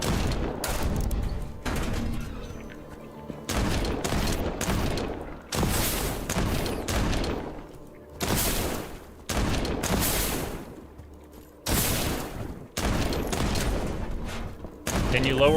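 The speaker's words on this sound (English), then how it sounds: "give you guys a break from the gunshots" Bursts of rapid video game gunfire in repeated volleys, loud and close, separated by short pauses, with a voice talking faintly between the shots.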